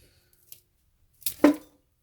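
Scissors snip through the roots of an Alocasia Polly during repotting: a faint click early on, then one short, close crunching cut with a brief tearing tail, otherwise quiet.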